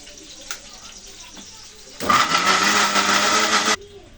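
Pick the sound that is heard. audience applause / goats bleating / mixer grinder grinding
mixer grinder grinding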